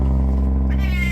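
A kitten in heat gives a drawn-out, low, strained meow, loud and close, holding steady for about a second with a rising tonal cry near the end.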